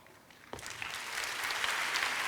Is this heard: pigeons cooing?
no